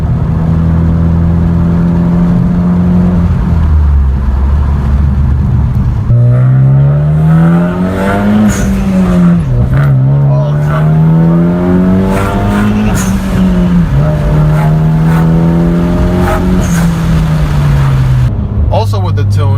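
A tuned 2013 Hyundai Genesis Coupe R-Spec holds loud, steady revs on launch control, then surges away, its engine note climbing and dropping through the gears, close and continuous, with a voice talking over it.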